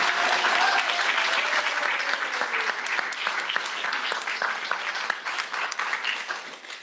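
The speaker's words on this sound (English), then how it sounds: "Give that lady a round of applause." Sustained applause from an audience at a town board meeting, honoring the town clerk, a dense wash of clapping that holds steady for several seconds and slowly thins toward the end.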